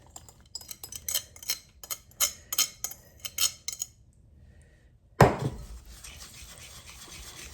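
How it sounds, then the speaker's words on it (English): A utensil clinks quickly against a bowl while wet ingredients are stirred into dry corn dog batter. After a short pause comes one louder knock, followed by softer scraping and rustling. "we're going to mix the wet ingredients into the dry ingredients"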